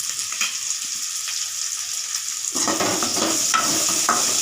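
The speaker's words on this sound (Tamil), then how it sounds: "எண்ணெய் ஊற்றி கடுகு பொரிஞ்சது சேனக்கிழங்கு மட்டும் போட்டு" Elephant foot yam frying in hot oil with popped mustard seeds, a steady sizzle that jumps louder and fuller about halfway through as the pieces hit the oil, with occasional stirring scrapes and no talk.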